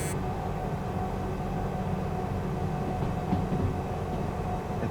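A locomotive rolls along in the Derail Valley train simulator, giving a steady, continuous rumble of wheels and engine that holds at an even loudness throughout, with no voices.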